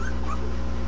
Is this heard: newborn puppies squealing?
yes